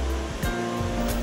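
Loud, constant roar of the Shipot waterfall, a three-tiered 12-metre cascade in a narrow gorge, a dense rushing wash with faint whooshing swells, close by.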